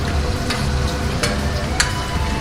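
Paneer frying in hot oil in a pan, a steady close sizzle with occasional scraping clinks of a spoon stirring the pieces.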